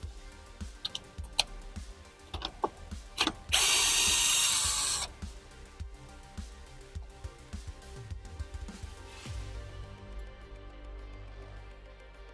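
Power drill working on a Chevrolet HHR armrest repair, a single loud whirring burst of about a second amid scattered clicks and ratcheting taps of tools and hardware.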